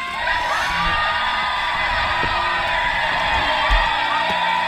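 A crowd on the Gettysburg battlefield lets out a sustained, high-pitched rebel yell of whoops and shouts, a steady loud wall of voices held for the full length.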